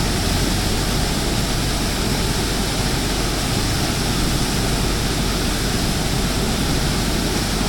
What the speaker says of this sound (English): feeding water in to make this deeper for him to sail in